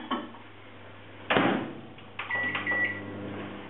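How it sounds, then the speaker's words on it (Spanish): A microwave oven runs while melting chocolate for a mug cake, a soft steady hum broken by a door clunk and clicks and then a beep-like tone, close and quiet without talk. "lo vamos a meter durante 1 minuto más en el microondas"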